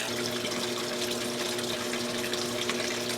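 A washing machine fills with hot water, giving a steady, continuous rush of running water with a low pump-like hum, close and unbroken with no talk.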